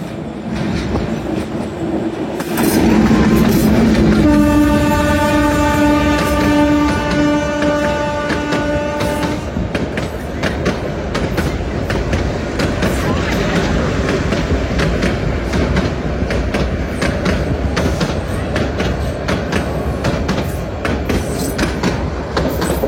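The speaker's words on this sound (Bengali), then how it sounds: "আর এখন নারায়ণগঞ্জ কমিউটার ট্রেনটি ছুটে আসছে।" Narayanganj commuter train heading from Dhaka toward Shyampur Baraitala station: a loud, continuous rolling roar with clickety-clack of wheels, and a sustained horn blast early on as it approaches and passes close by.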